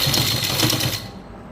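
A sewing machine stitches piping onto a garment neckline, running in a loud, steady whirring burst for about a second before cutting off.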